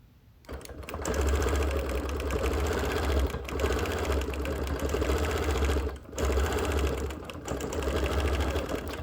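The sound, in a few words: sewing machine quilting continuous curves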